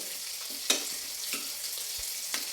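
Ash gourd curry stirred in a pan, a soft steady sizzle with a few brief scraping strokes of the spoon, close and alone without voices.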